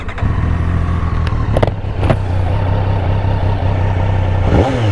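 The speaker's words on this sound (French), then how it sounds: "on va s'écouter un petit peu le son de la moto" A 2023 Triumph Street Triple RS 765 motorcycle engine with stock exhaust idles loudly and steadily nearby, with a brief rev near the end and a few sharp clicks early on.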